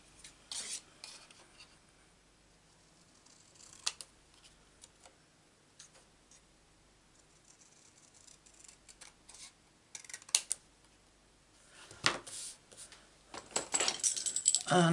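Scissors cutting out paper card for a stamped craft project, faint intermittent snips and rustles that grow busier and louder toward the end, no talking.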